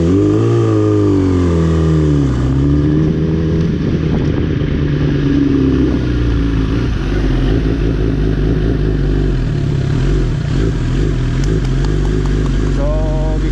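A 2016-2017 Kawasaki ZX10R superbike is ridden, its engine loud and close, climbing and falling in pitch as it revs and shifts, with a steady mechanical drone throughout.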